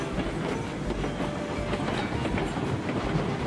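A train in the video game Railroads Online rumbles along steadily with rhythmic clickety-clack of wheels on rails, a loud, continuous rolling roar with no voices.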